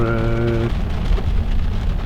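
Heavy rain pours steadily in Canada, a dense, loud hiss of drops on surfaces, with a brief low tonal hum at the start fading into the downpour.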